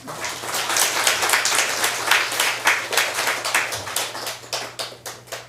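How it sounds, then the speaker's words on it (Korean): Church congregation applauding to welcome a pastor at a New Year revival meeting, a dense steady burst of many hands clapping that carries through the whole stretch with a low hum underneath. "우리 박수로 환영하겠습니다."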